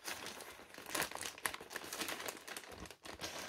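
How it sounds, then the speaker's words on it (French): Paper wrapping on a Temu parcel is torn and crumpled open close by, a busy run of crinkles and rips with short pauses, with no talking. "J'essaie de pas trop déchirer le papier."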